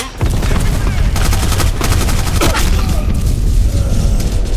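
Gunfire in the first-person shooter Black Squad: loud, dense rapid bursts of shots, closely spaced and sustained, with booming impacts throughout.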